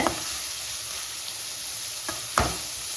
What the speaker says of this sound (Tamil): இப்போ வெங்காயம் நல்லா வதங்கட்டுங்க